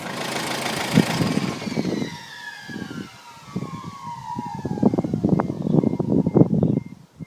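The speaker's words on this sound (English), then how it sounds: "as I turn the truck off, you'll hear the cold air feed motor come down with a whistle" Cold air feed motor on an Isuzu Bighorn Irmscher winding down at engine shut-off, a high whistle sliding steadily downward in pitch over several seconds while the idling engine rumbles and knocks underneath, close up.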